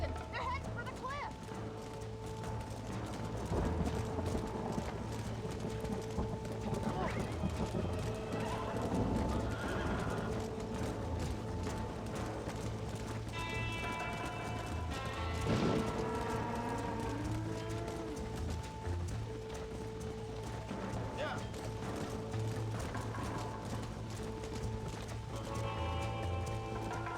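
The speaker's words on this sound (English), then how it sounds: "They're spooked! We have to stop the stampeding!" Spooked horses stampeding in the Red Dead Redemption video game on Switch: repeated whinnies and neighs over steady galloping hooves, with in-game voices and music layered throughout.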